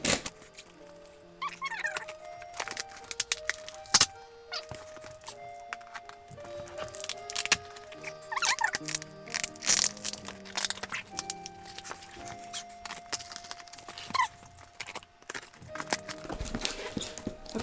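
A packing strap and cardboard box holding a resin statue are cut open, with scattered close cracks, crunches and scraping rustles over about seventeen seconds amid faint tonal background sounds.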